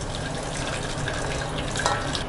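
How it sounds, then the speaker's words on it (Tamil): Cooking water poured off boiled chickpeas, a steady close gushing, splashing pour that runs continuously for the whole stretch without any voices. "இப்போ நம்ம தண்ணி வடிச்சுக்கலாம்."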